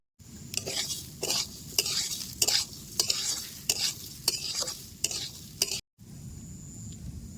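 Broken-wheat daliya and moong dal are stirred while they fry in a pot, making rhythmic scraping strokes about every half second over a soft, steady sizzle. The sound drops out briefly near the end, then the sizzle resumes.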